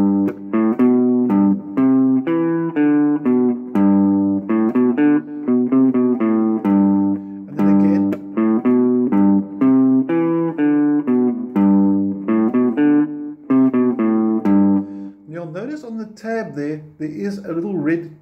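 Clean electric guitar plays a melodic phrase from a song, steady and close with single notes and short runs, trailing into a few softer, scratchier notes near the end.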